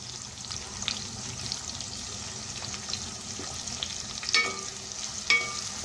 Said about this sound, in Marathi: मीडियम फ्लेम वरतीच आपल्याला कांदा व्यवस्थित शिजवून घ्यायचा आहे, अगदी मऊ होईपर्यंत